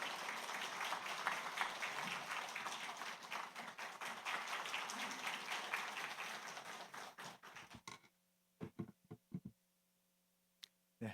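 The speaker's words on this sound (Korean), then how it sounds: "우리 환영하는 의미로 박수로 우리 모실까요?" A church congregation applauds to welcome a pastor before a sermon, dense sustained clapping for about eight seconds that thins into a few scattered claps and then quiet, with a low hum underneath.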